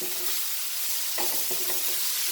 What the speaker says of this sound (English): This is nicely sauteed.